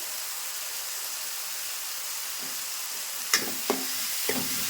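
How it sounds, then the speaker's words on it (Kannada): A spice mixture with green chillies and garam masala powder frying in a pan, heard as a steady hiss of sizzling oil, then a few sharp scraping stirs near the end, with no speech. "ಇದೆಲ್ಲ ಮಿಕ್ಸ್ ಮಾಡಿ ಫ್ರೈ ಮಾಡ್ಕೊಂಡು"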